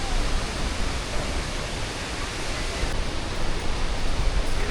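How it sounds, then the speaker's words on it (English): Fremont Falls in Yosemite National Park gives a steady, full roar of rushing water. The sound is loud and constant, with no voices. "one of the best waterfalls that you could visit in Yosemite National Park"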